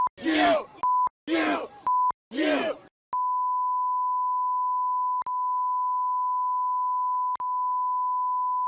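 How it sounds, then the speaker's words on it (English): Three bursts of muffled shouting are each cut by short censor beeps, followed by a long steady bleep tone that runs for several seconds with a couple of faint clicks. "that was just a whole lot of beeps"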